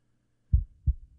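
Two deep, muffled heartbeat thumps in quick succession, close and moderately loud against silence, a pounding pulse effect in an animated winter horror story.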